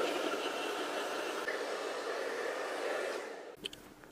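A hair dryer blows a man's hair dry in a barbershop during a men's fade and slicked-back haircut, a steady, fairly close rushing whoosh that runs without pause and then cuts off, leaving a few faint clicks.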